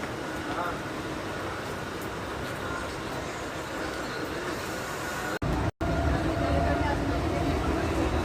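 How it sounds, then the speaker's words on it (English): A Mumbai local commuter train rumbles steadily while moving, a constant broadband drone with rattling, and people talk faintly over it. "Train is moving already."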